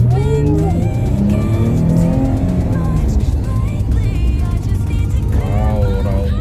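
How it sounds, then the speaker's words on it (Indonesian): A 2013 Porsche Panamera engine roars loudly and steadily, with rising revs and a hint of tyre squeal, a close and sustained sound with no talk over it. "Wow, raungan mesinnya menggoda banget ya bro."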